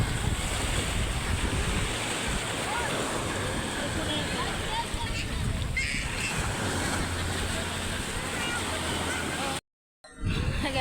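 Sea waves and wind roar steadily during a boat crossing to an island, a loud continuous wash with heavy wind buffeting on the microphone and a brief dropout near the end.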